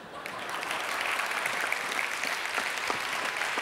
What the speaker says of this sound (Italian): dovreste fare l'applauso